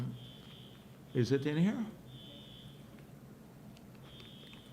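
A steady electronic fire alarm tone beeps in repeated long pulses behind a press conference, moderately loud, broken by a brief question from a nearby voice.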